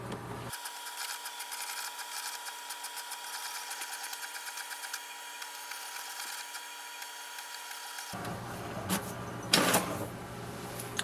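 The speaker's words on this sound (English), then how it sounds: "wait for the printer to print." An HP DeskJet Ink Advantage 2775 inkjet printer prints an alignment page with a steady mechanical whir and hum for about eight seconds, then stops amid scattered clicks and rustling.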